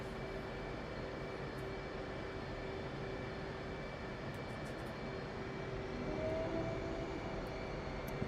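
An F/A-18C jet in the DCS flight simulator sits on the ground with its engines producing a steady, low, distant hum and whine, constant and unbroken throughout.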